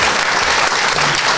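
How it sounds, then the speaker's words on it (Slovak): Audience applause at a live talk-show event, dense steady clapping from a full crowd, loud and close, filling the whole moment without voices on top. "Veľký potlesk, Peter, ďakujeme."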